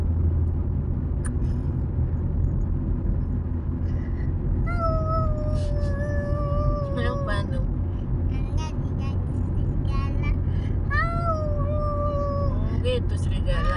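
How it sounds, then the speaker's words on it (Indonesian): Wolf howling heard from a car on a smooth rural road between villages in Kampar, Riau, several long wavering howls over a steady engine and road rumble, distant and fairly faint. "Itu serigala."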